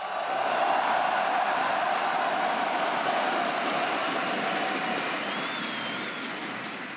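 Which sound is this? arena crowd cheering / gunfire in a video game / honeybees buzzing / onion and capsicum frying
arena crowd cheering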